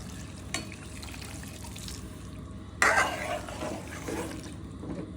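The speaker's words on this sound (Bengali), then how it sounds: "জল দিয়ে দিলাম" Water poured into a pan of rui fish curry with cauliflower and potato: a short splashing pour about midway, after a faint drip, over a low background hiss.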